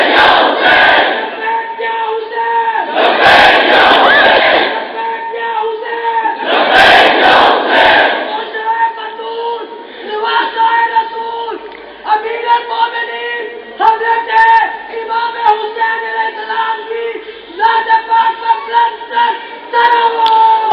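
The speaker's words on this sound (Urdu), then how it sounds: "آپ نعرہ لگوائیں، زور سے نعرہ لگوائیں" A large crowd at a Muharram religious gathering shouts loud slogans in unison, several bursts of massed voices with pauses between them, then rhythmic group chanting continues steadily, close and forceful.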